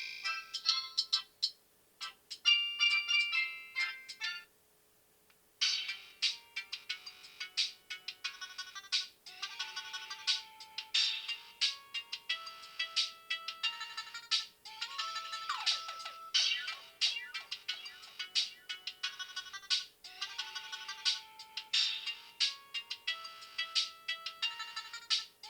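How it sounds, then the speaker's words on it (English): Electronic ringtones from a Kyocera K10 Royale phone play one after another, bright beeping melodies with short pauses between them. "those are those awesome ringtones that I remember"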